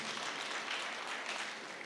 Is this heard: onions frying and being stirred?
no